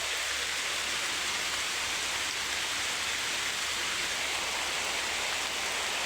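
A close, unbroken roar of heavy rain fills the whole stretch with steady, dense hiss and no voices.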